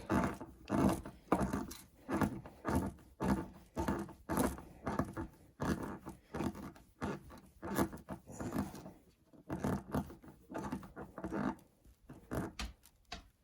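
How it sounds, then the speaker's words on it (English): Snap fittings for a CC-SNAP concealed carry holster are screwed into a wood mounting surface by hand, giving repeated close ratcheting, rubbing clicks in a steady rhythm of short twisting bursts. "screw it in to the muzzle snap position until it's tight and snug"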